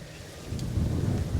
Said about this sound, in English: It is very windy today, that's for sure.